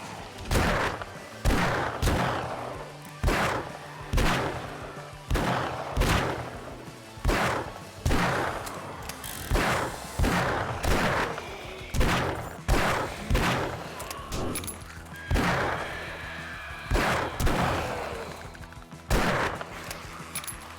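Repeated heavy gunfire with armor-piercing rounds in the survival game 7 Days To Die, sharp booming shots in uneven bursts roughly every second, loud and close with short decaying tails.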